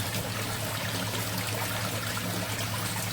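Water splashes steadily as it is poured to rinse a minimalist koi pond, a continuous close, dense stream with no pauses and no talk.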